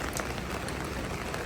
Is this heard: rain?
yes